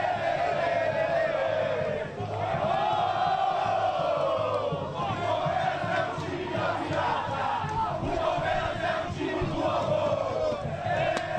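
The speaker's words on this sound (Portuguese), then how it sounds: "E a torcida vai cantando o que você queria ouvir" Palmeiras supporters chant in unison around the team bus, a loud, continuous crowd song with rhythmic swells and shouts from many voices close by.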